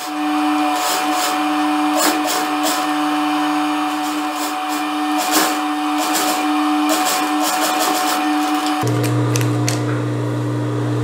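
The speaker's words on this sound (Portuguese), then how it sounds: "agora eu vou jogar aqui esse viés pro lado e passar uma costurazinha de pés ponto rente" Sewing machine stitching bias binding close to the edge of a blouse's American armhole, a loud steady motor hum with a constant mechanical drone and a shift in pitch near the end.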